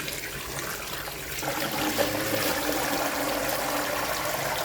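Something being washed in water: a steady splashing, trickling wash that swells after a second and continues close by, with no talk over it.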